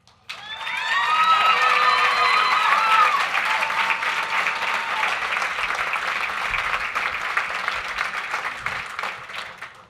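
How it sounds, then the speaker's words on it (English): A crowd at a sheriff's office promotion ceremony gives Danetta Johnson loud, sustained applause with whoops and high cheers at the start, then the clapping carries on steadily and slowly thins. "it looks like she brought her own cheering group"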